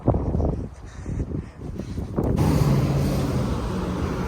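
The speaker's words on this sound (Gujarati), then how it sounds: "બટ પવન બહુ છે," Strong wind buffets the microphone on a sunny street in Canada, a low roaring rumble that swells sharply partway through and stays loud and steady.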